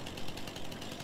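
Husqvarna chainsaw running in Farming Simulator 19 while felling and limbing logs in a forest, a steady loud buzzing drone with slight pulsing, alone without talk.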